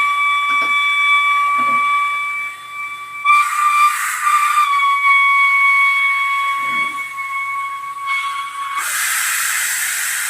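Potatoes cook in a pot, giving long steady steam whistles with overtones, broken by bursts of loud hissing steam and a few faint knocks.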